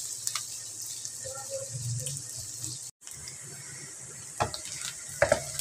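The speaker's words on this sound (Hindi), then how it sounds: "प्याज को ब्राउन नहीं करूंगी मैं, बस थोड़े से गुलाबी ही करूँगी" Chopped onions sizzle and fry in a pan until lightly pink, a steady soft hiss with occasional stirring scrapes and clinks, a brief break midway, no talking.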